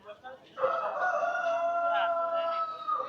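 A rooster crows once, loud and close, a long drawn-out cry with a rising start and a wavering tail, heard at a giant rooster landmark with faint background noise before it.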